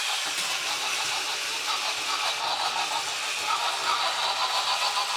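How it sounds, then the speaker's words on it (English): The old motor of a 1998 vintage toy robot runs with a steady, close, buzzing whir and a slight fluttering rattle, continuous throughout. "Sometimes you can get the old motor running."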